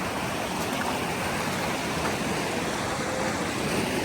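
A stream flows in Manali, a dense, steady rushing of water that fills the whole stretch evenly and stays loud and close without pause.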